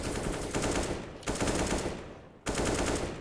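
Automatic gunfire in CS:GO on the Inferno map during a pro match, spraying through smoke in three sustained loud bursts separated by brief pauses.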